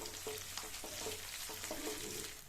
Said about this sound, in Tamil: அதனால் இதை அடுத்து ஒரு 30 செகண்ட்ஸ் மட்டும் நம்ம எண்ணெயிலேயே ஃப்ரை பண்ணால் போதும்